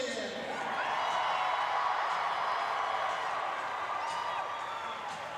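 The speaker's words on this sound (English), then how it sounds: "listen to the roar of this crowd for longtime head coach Steve Fillion here in just a second" A basketball tournament crowd roars and applauds for the longtime Red Lake County Rebels head coach, a sustained wash of cheering and clapping filling the gym, with an announcer talking over it.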